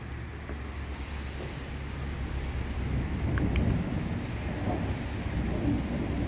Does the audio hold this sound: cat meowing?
no